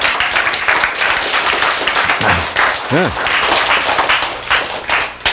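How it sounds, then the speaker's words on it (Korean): A lecture audience claps continuously throughout, a dense patter of hands while a speaker's voice briefly cuts in over it. "박수!"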